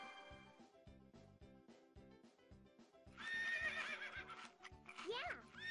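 A cartoon horse in a children's show neighs in a high, wavering whinny over a rhythmic clip-clop beat, then gives a second shorter whinny, with a voice nearby.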